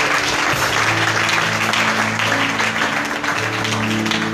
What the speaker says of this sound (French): Est-ce qu'on peut acclamer très fortement le Seigneur?